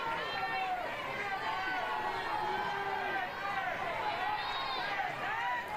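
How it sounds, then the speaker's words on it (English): A crowd at a college softball game between Oregon and Stanford keeps up loud, sustained cheering and calling, with many voices blending into a continuous roar. "This crowd imploring her."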